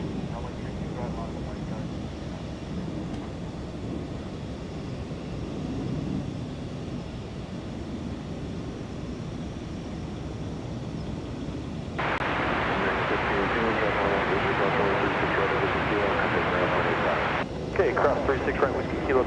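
Qantas Airbus A380 departing DFW Airport for Melbourne at night, a faint distant engine rumble under talk that turns into a louder broadband roar partway through.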